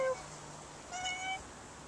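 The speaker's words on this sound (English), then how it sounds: "It's a kitty." A cat meowing outdoors in a backyard with palm trees, giving a couple of faint, short meows against quiet background noise.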